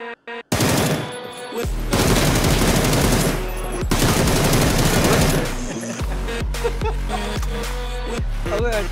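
Rapid bursts of gunfire in the video game PUBG, from Beryl M762 and M416 rifles, loud and continuous automatic shots with brief pauses, crackling and dense.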